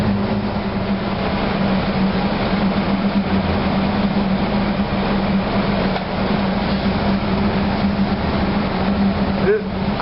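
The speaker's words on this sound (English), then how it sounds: "Now we speed up the engine." A MAK 8M32 main marine diesel engine runs in a ship's engine room, a loud steady droning rumble with a strong low hum that holds throughout, with faint voices under it.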